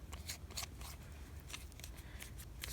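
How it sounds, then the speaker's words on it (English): Light sanding of a torn bicycle inner tube with a small abrasive before patching, short scratchy rubbing strokes in an uneven rhythm, close and fairly quiet. "just kind of lightly sand where the tear is"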